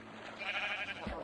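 A single short bleat from a sheep in the video game Minecraft, quiet and brief against a soft background.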